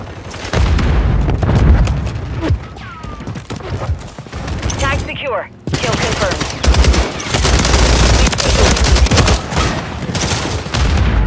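A grenade explosion amid Call of Duty: Modern Warfare 3 multiplayer combat: loud, continuous rapid gunfire and booming blasts that fill the whole stretch, with a brief dip just before midway.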